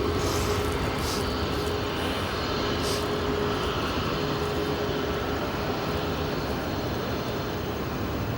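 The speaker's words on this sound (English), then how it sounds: "This particular aircraft, a 777 arriving from Istanbul, flight time of 11 hours flat." A Turkish Airlines Boeing 777 arriving at O'Hare Airport from Istanbul, its engines a broad, steady roar that holds at constant loudness throughout, distant and unbroken, with no voices.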